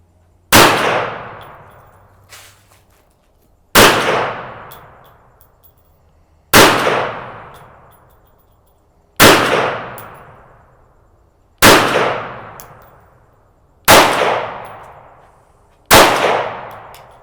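A PMR 30 pistol fitted with a red dot fires at steel gongs on an outdoor range: seven evenly spaced sharp shots, each followed by a bright metallic ring that fades over a second or two.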